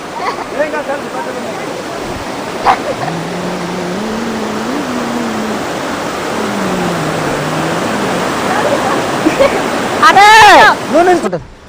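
Steady broadband rush of falling water from Putikunta waterfalls, Y. Ramavaram agency area, fills the background throughout, with someone speaking over it and a brief louder burst of voices near the end.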